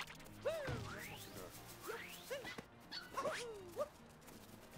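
A dog in Super Mario Odyssey barks and yips several times over busy game music and sound effects, the barks quick and moderately loud.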